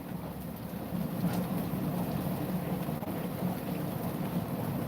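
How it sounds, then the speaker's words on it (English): Steady rain falls outside, a continuous dense hiss with no breaks, heard alone at moderate level. "Y'all hear that rain?"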